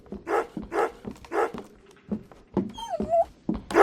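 A dog in the horror game Remothered gives three rhythmic barks, then a few softer yips and a rising whimper, close and clear with no voices over it.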